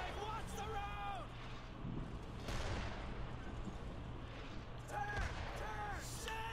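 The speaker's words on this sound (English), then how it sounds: "Mortars! Incoming!" Mortar shells burst in a Brothers in Arms: Hell's Highway battle as jeeps speed down a road, heavy rumbling blasts around 2.5 and 5 seconds over a dense wartime din, with shouted voices and a sharp whistling tone running through it.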